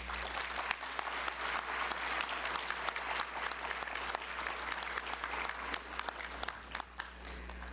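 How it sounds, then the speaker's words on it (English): Audience at a Meharry Medical College School of Dentistry white coat ceremony claps steadily, a dense, sustained round of applause from a large crowd filling the room without a break. "Let's give our class of 2027 and our international class of 2025 a round of applause."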